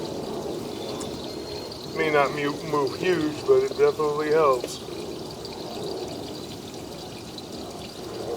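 Water runs and pours steadily in a continuous broadband rush throughout, while someone talks over it for a few seconds in the middle.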